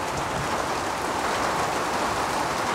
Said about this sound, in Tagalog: Wala kasi magtatagal tong ulan na to.